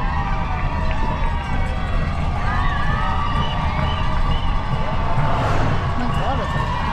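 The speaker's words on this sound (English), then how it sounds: "And you can hear the cheering in the background." Spectators at the Western States Endurance Run, a crowded roadside with cars and runners, cheer and shout continuously at a distance, a dense wash of crowd noise with voices mixed in.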